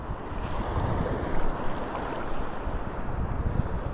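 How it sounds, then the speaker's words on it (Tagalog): Big sea waves roll in on a rocky fishing and shell-gathering shore, a continuous loud surge of surf with strong wind gusting across the microphone, with no one speaking. "Laki ng alon dyan"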